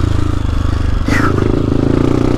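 A motorcycle on a heavy muddy trail drones steadily up close, its engine note briefly shifting with a short scraping burst partway through.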